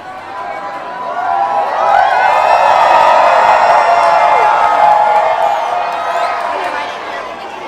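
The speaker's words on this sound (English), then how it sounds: "You can hear everybody cheering as they walk through the gate." A large crowd cheers and whoops as visitors stream through the entrance gate of Star Wars Galaxy's Edge at Walt Disney World on opening day, a loud, sustained wash of voices that swells in the middle and eases slightly toward the end.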